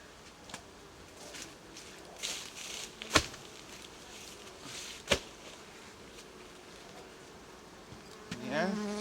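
Honeybees buzz quietly around a hive at close range, with a few sharp knocks and brief handling noises over the low drone.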